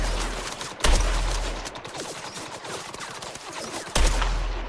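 Bursts of video game gunfire from MindsEye aimed at an explosive barrel, dense rapid shots with two sharp heavy blasts standing out, loud and close with no talking.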